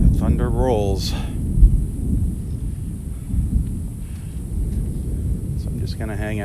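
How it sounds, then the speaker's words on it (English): Rolling thunder during a morning storm on a beach in North Naples, Florida: a heavy, drawn-out low rumble with a few stronger swells, and someone talking briefly at the start and end. "The thunder rolls."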